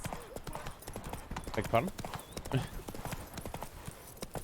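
Roach the horse's hooves clip-clop steadily in The Witcher 3, a continuous rhythmic trot under in-game voices and a brief spoken line.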